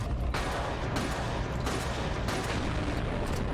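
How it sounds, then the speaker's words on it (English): In the video game TimeShift, a vehicle's front left tire blows out in a loud, sustained burst of explosive crackling and booming that fills the clip, with several sharper impacts, no voices over it. "we're trying to wait for a vehicle explosion on our front left tire, and we want it to explode up"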